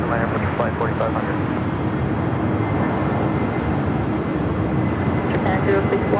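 A Boeing 787-9 Dreamliner jet at Los Angeles International Airport, a loud, steady engine roar holding for several seconds under continuous talk.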